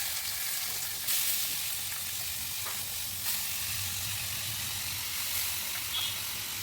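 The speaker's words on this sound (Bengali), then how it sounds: "এখন চাল কুমড়াটাকে জল থেকে কড়াইতে দিয়ে দিই ভাজার জন্য" Ash gourd pieces, just drained from water, frying in oil in a wok with green chillies, giving a loud, continuous sizzle with occasional sharper crackles and no talking.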